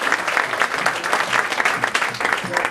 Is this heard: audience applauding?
yes